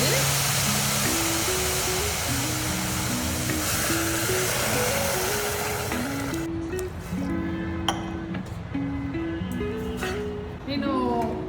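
Water pours in a steady rushing stream into a pan for millet upma, loud and close for about six seconds before cutting off. Faint clinks follow, and a person talks over the whole pour.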